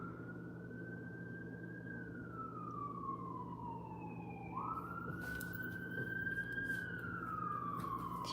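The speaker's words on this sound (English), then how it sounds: "Do you hear the sirens?" Emergency vehicle siren wailing steadily in the distance, its pitch sweeping slowly down and back up, faint and continuous, with a few clicks and taps nearby.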